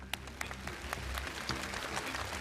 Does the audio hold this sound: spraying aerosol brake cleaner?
no